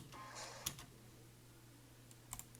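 Computer mouse clicking during video editing: two quiet, sharp clicks spaced about two seconds apart over a faint electrical hum, with no talking.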